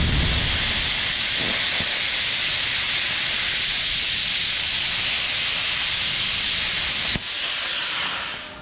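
A YesWelder CUT-55DS plasma cutter, turned down low, slices through thin aluminum with a loud, steady hiss that runs for about seven seconds, breaks off abruptly, then resumes.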